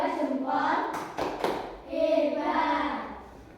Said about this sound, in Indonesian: Sama kita beri tepuk jempol